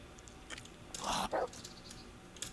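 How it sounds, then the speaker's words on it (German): A dog in the medieval role-playing game Kingdom Come: Deliverance gives two quick, fairly loud barks close together near the middle, over quiet game ambience with no talking. "Hund."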